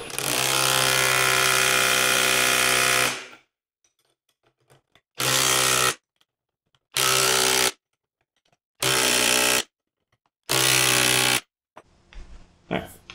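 A Skil 12V right angle impact driver tightening a bolt during a torque test: one long, loud buzzing hammer burst of about three seconds, then four shorter, evenly spaced impact bursts separated by near silence.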